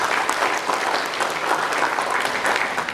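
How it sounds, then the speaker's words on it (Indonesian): A crowd applauds steadily, a dense wash of clapping that stays at an even level throughout. "Tepuk tangan."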